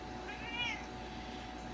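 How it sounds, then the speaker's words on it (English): A pet cat gives a single clear meow near the microphone, rising and falling over about half a second, against a quiet indoor room hum. "This is another kitty."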